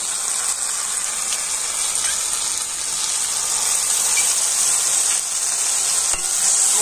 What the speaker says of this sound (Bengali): আর এই সমস্ত মশলাগুলো একটু আমি কষে নিচ্ছি।